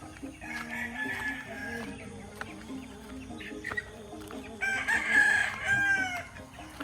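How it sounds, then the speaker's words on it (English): Roosters crow repeatedly over steady clucking from chickens, with a busy farmyard backdrop at a rural home near Sabang, Palawan, Philippines; one loud crow rises near the end. "And the usual roosters and chickens"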